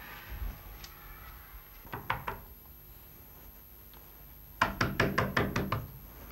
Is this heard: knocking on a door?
yes